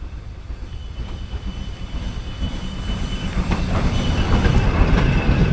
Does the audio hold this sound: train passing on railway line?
yes